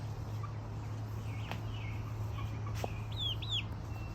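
Hens and young chicks in a garden yard make faint, scattered high chirps and soft clucks at a distance over a steady low background hum.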